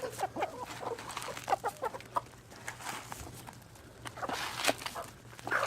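Backyard chickens let out to roam the yard cluck and call in a busy, irregular stream, with a steady low hum underneath and no talking.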